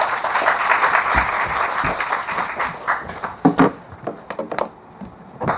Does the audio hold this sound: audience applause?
yes